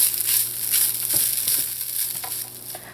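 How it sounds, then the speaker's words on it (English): Cold leftover rice fries in a pan for pepper rice, a steady close sizzle with occasional soft stirring scrapes and no talking. "to fry up in here for about 3 minutes because the rice is cold and you want that rice to warm through"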